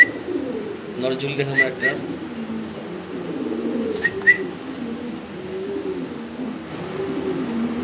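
Spanish fancy pigeons in breeding mood coo in low rolling phrases close by, with someone talking over them and a few brief chirps.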